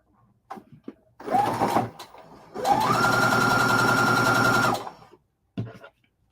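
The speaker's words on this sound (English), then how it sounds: "then I'm be sewing the rows together" A sewing machine stitching quilt rows together runs in two close bursts with a rising whir, the second longer and steady, set between short clicks and pauses.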